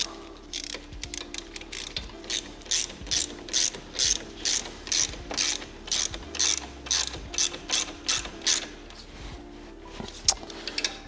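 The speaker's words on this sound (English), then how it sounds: "Now I can snug down the pinch bolt, which I will use my wrench for." A ratcheting wrench tightens a pinch bolt on a Kartboy alternator cover bracket of a Subaru GD STI, giving repeated bursts of sharp, close clicking in a steady rhythm, about a dozen quick strokes with short pauses between them.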